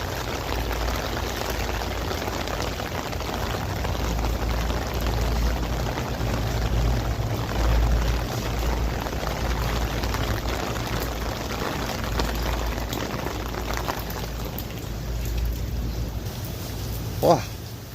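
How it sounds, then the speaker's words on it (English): Heavy rain falling in a town during a thunderstorm, a dense continuous hiss and patter with a low steady rumble underneath, unbroken from start to end. "it started raining out pretty good again"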